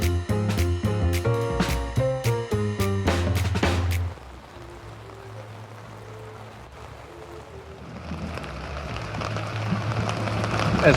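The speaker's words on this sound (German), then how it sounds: "Es regnet in Strömen" Heavy rain pours in Romania as a steady, hissing downpour takes over once loud music cuts off, then swells louder toward the end.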